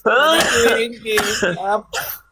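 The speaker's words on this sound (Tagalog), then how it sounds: "Oh, inuubo ka na." A person coughs and clears their throat in rough, harsh bursts, close and fairly loud, with breaks between the fits.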